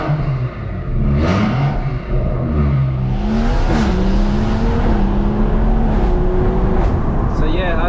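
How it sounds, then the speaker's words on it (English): A tuned BMW M140i producing about 450 bhp, sitting on lowering springs, pulls through the gears with a loud, close engine note rising and dropping between shifts, with a few sharp crackles, and someone talks over it. "This car actually sounds really nice, man. A little bit louder than my car."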